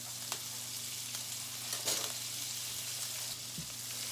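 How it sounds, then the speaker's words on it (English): Slabs of butter sizzle softly in a pan next to a simmering puff pastry filling, a steady faint hiss and crackle with a few small pops and no talk. "We're gonna throw in a couple of slabs of butter."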